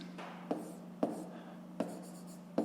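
A pen scratches across paper while a fifth-grade math exercise is worked out, with four sharp taps spaced about half a second apart over a steady soft scratching and a low hum.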